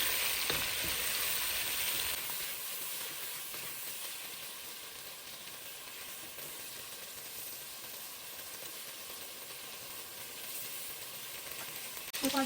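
Prawns frying in hot oil as one is flipped over, a steady close sizzling hiss that settles after a brief louder burst at the start.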